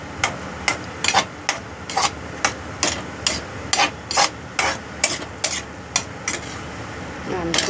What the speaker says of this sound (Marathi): तोपर्यंत हलवून घ्यायची आहे भुर्जी